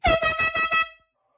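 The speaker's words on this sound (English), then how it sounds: "Where the air horn at?" A blaring air horn sounds in several quick pulsed blasts, loud and close, then cuts off into silence.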